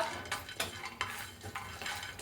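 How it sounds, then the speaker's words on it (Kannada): Turmeric root being dry-roasted and stirred in a pan while making sambar powder: a utensil scrapes and clinks against the metal in a steady run of short strokes, close and fairly quiet, with faint sizzling underneath. "ಇವಾಗ ಅರ್ಶಿನ ಕೊಂಬು ಹುರಿತಾ ಇದ್ದೀನಿ"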